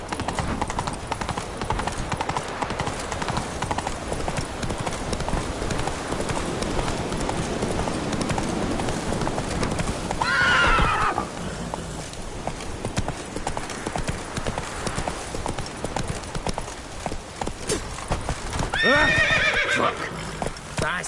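A horse's hooves clip-clop steadily in The Witcher 3 video game, a constant close trotting rhythm broken twice by a loud neigh, with someone talking over the gameplay.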